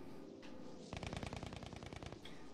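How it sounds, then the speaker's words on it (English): Rapid bursts of machine-gun fire crackle during a two-versus-two aerial dogfight in a video game, a dense rhythmic volley starting about a second in and running steadily, loud and alone with no talk. "Shots are fired."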